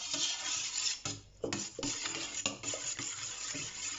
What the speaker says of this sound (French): vous mélangez jusqu'à ce que la levure soit incorporée à votre liquide